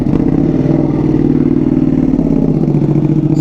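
An Aprilia V4R motorcycle engine idling loudly in race mode, a harsh, steady, close-up rumble with rapid mechanical clatter that holds even throughout.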